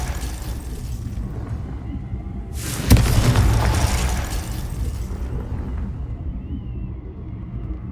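A single booming Confringo blasting-spell explosion in Hogwarts Legacy bursts out sharply, then rumbles and fades over a couple of seconds against a low game ambience.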